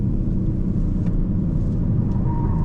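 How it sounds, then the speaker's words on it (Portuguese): Steady low road rumble of a 2025 Porsche Panamera 4 E-Hybrid in motion, with a continuous hiss of tyres on a wet track throughout. "a pista tá um pouco molhada, pra vocês estão percebendo um pouco de barulho de pneu."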